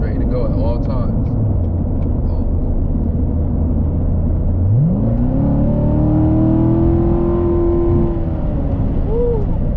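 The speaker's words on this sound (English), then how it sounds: "I know y'all hear that engine." A 2019 Corvette Stingray engine drones steadily, then revs up sharply and holds a high whine before easing off, loud and close.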